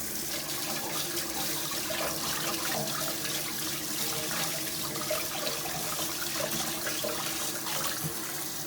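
A pre-charred pork hock is rinsed under a running kitchen tap, a steady close splash and gurgle of water falling into a sink with no talking.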